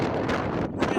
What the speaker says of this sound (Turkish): Rüzgar hem telefonu hem gözlüğümü zorluyor. O kadar şiddetli.